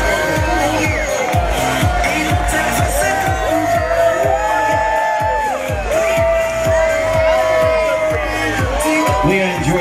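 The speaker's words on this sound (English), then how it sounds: "Give her a big round of applause." Crowd at a bikini contest in Sarasota cheering, whooping and shouting for a contestant, a loud, dense roar of voices that stays steady throughout with no clear break.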